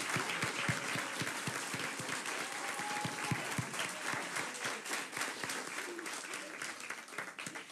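A room applauds Women's History Month Committee members as they stand at an annual celebration: steady, full clapping from many hands that holds for several seconds and eases slightly toward the end.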